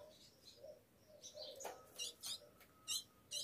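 A female ultramarine grosbeak (azulão) in an aviary gives a series of short, high chirps, spaced at uneven intervals and fairly faint, over a quiet room background.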